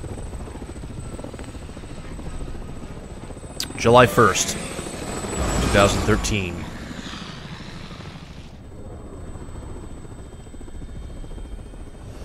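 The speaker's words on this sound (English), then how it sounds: "Helicopter." Helicopter rotor whir from the video game Resident Evil 6, a brief loud burst lasting a few seconds over steady game background, with someone talking across it.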